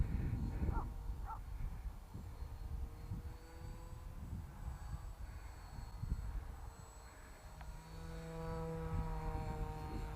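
A small homemade foam RC airplane cut with a hot wire flies in gusty wind, its faint electric-motor buzz drifting at a distance with a rising whine near the end.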